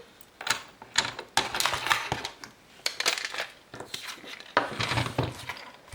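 A cutting blade slices a 9.5 by 10.5 rectangle out of black cardstock: a series of close, dry scraping and crunching strokes in uneven bursts with short pauses between them.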